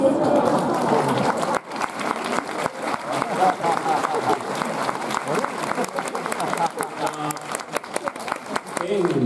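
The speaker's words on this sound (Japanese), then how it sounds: "皆さん拍手でお迎えいただきたいと思います" Audience applause welcoming a guest at a Sagan Tosu fan appreciation festival, a broad, sustained crowd clapping filling the space while a voice speaks over it through much of the stretch.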